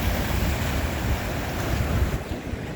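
Rough ocean surf churns and crashes against rocks below dangerous cliffs, a continuous loud roar of waves with heavy wind buffeting the microphone and no voices.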